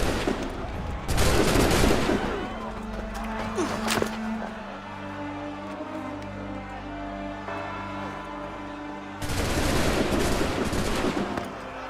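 A volley of musket gunfire in the Assassin's Creed 3 video game comes as dense crackling bursts near the start, with a single sharp shot in between and another sustained barrage near the end, over a low rumbling background.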